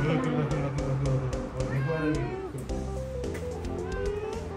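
A large cat at a mangrove park in Japan meows repeatedly in drawn-out, wavering calls, close and fairly loud, mixed with people talking nearby.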